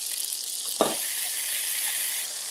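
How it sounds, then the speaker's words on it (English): Potatoes browning in a skillet give a steady, even sizzle throughout, broken by one brief clink or scrape near the start. "So we want to get our potatoes to kind of brown like this, okay?"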